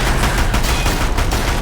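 Sustained machine gun fire in Horizon Zero Dawn, a loud rapid stream of dense shots with no pauses.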